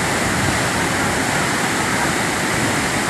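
A strong waterfall at Tinakayan Labrador Falls, swollen after rain, roars in a steady, loud, unbroken broadband rush throughout, with no voices over it.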